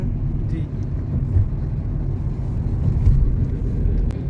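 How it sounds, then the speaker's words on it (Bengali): A car drives across the Farakka bridge at night alongside lorries, buses and trains, producing a steady, loud low road rumble that swells slightly over time. "লরি বাস এবং ট্রেন একই সাথে চলছে এবং আমাদের গাড়ি চলছে"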